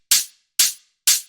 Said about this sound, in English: just kind of like this fat hi-hat